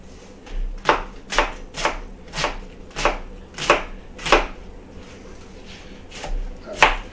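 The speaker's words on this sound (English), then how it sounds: "I just got to chop this up" Knife chopping cabbage-style ingredients for kraut burgers on a board, a steady run of about ten crisp, close strikes in irregular rhythm with a short pause midway.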